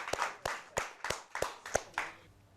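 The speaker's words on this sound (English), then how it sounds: "Keep that applause going." Applause at a school mathematics championship thins out to a few distinct claps, about seven sharp hand strikes in an uneven rhythm, close and fairly faint, with no talking.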